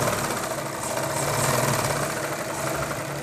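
A sewing machine stitches fabric for gents' underwear, a steady close mechanical whir with a rapid even needle rhythm running without pause.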